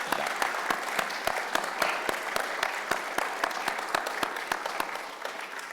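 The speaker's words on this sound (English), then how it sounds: "Let's give a round of applause to our excellent guests" Applause for guests at the close of a panel conversation: a small audience clapping in distinct, fairly regular individual claps, moderately loud and close, sustained for several seconds and thinning slightly at the end.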